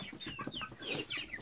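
Farm chickens cluck and squawk close by in quick, overlapping calls, a small flock fussing continuously without any voices.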